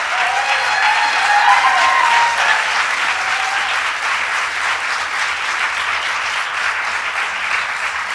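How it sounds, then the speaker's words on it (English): Sustained audience applause at a political event celebrating legislators, dense and steady clapping from a large crowd filling the whole stretch, slightly louder at the start and easing a little toward the end. "let's give a round of applause to all the legislators who finally got it done"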